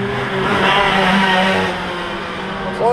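A KT100S go-kart engine revs loudly and steadily up close, holding a buzzing high-pitched drone that swells and eases slightly, heard alone without talk.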